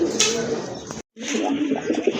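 A pair of pigeons offered for sale at a pigeon market coo in low, rolling murmurs, with a brief gap midway before the cooing resumes, fairly close and steady.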